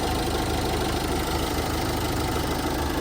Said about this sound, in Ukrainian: Дуже м'яко, дуже класно працює двигун.